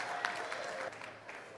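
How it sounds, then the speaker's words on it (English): An audience at a celebrity chef kitchen demo claps steadily for a second and a half to welcome Chef Victor Villareal, a dense wash of applause in a room. "let's give one more big round of applause and welcome to Chef Victor Villareal"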